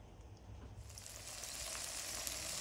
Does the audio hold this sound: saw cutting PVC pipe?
no